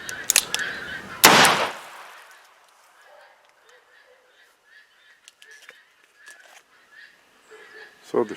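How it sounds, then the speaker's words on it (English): A .44 Magnum shot load fired from a .480 Ruger revolver, one loud sharp blast with a brief ringing tail, followed by a quiet stretch of faint outdoor sounds and distant calls. "So the shot loads definitely work"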